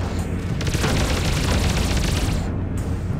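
Spaceship weapons fire in the space combat game Freelancer during a Corsair attack: a continuous loud roaring, rumbling barrage of blasts and impacts, heard without any talk.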